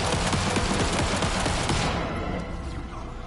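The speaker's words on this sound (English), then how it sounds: "When he hears all the gunshots and the garbled voices" Gunfire in the Night Springs video game episode, a dense continuous barrage of rapid shots that fills the clip loudly, then thins and fades toward the end.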